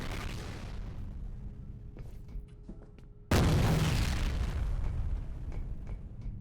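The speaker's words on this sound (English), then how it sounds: "random explosions." In the shooter game F.E.A.R., an explosion bursts in with a sudden loud, deep boom, then a rumbling roar of debris and fire fading over a few seconds, after quieter ambient gunplay noise and clicks.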